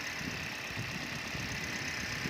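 Steady idle of a 2019 Toyota Vios car engine, a close, even mechanical hum with faint rhythmic ticking and no speech.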